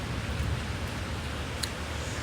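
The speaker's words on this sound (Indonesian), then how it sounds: "Sambil menikmati hujan" Rain falling outside a balcony, a soft, steady hiss of drops heard at a distance and fairly faint, with no voices during this short stretch.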